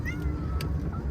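A cat meows a few short times at a delivery drop-off, fairly close but soft, over a low steady background hum.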